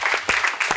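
A brief burst of audience clapping in a college auditorium welcoming judges at an Independence Day talk show, a quick series of close, rhythmic hand claps lasting under a second.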